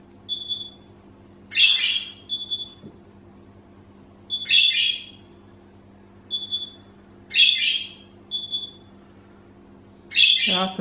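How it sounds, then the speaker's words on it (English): A pet bird gives several loud, sharp squawking calls in short bursts, answering a steady electronic oven beep that repeats in pairs; the calls are close and stand out clearly over a quiet indoor hum. "He wasn't chirping until it started beeping."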